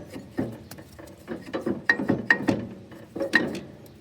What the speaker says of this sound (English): I've actually managed to totally free off the variable pulley